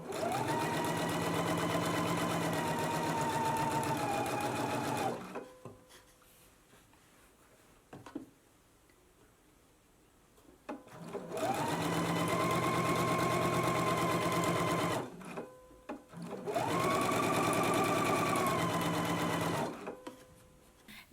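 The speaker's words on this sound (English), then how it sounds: "So let's go ahead and begin stitching now." Sewing machine stitching the elastic casing of a beginner summer dress, running in three steady bursts of several seconds each with quiet pauses between them, close and clear with no talking.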